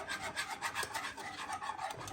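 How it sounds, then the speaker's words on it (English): Soft rhythmic scraping of a spoon stirring melting chocolate in a pot for homemade ice cream, quick repeated strokes, close and quiet. "I keep stirring it"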